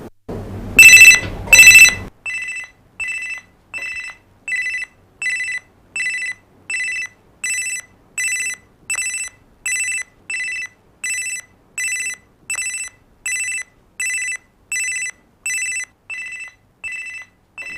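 A telephone rings in a steady repeating pattern of short bright trills, about twenty rings spaced evenly, after a brief louder burst at the start.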